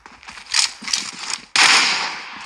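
Gunfire from a shooter video game rings out in short bursts of crackling shots, followed by a louder sustained blast of dense noise, close and without talk.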